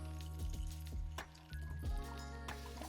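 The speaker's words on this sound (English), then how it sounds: "Now I've got some boiling water here in my kettle." Boiling water pours from a kettle into a cup to brew tea, a close liquid fill with gurgles, a few light clinks and a brief pause partway through.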